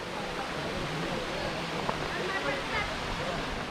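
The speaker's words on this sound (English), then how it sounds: "Here is the stream coming and people enjoying the water here." Stream water flowing past a path near the Yana Caves in Gokarna, a steady broadband rush that fills the clip at an even level, with faint crowd noise from people enjoying the water.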